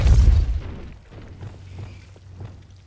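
The Depulso spell is cast in Hogwarts Legacy, giving a heavy booming burst at the start that fades into a low rumble with a few soft thuds after it.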